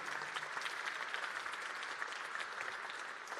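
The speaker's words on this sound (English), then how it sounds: "a big round of applause, please" A conference audience at an AI vision event gives a steady, even round of applause, a dense wash of clapping heard from a distance at low level throughout.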